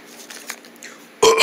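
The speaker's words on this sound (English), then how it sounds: "When y'all burp, why y'all can't burp beside your shirts?" A single loud burp bursts out near the end, preceded by faint background rustles and quiet room noise, with no talk over it.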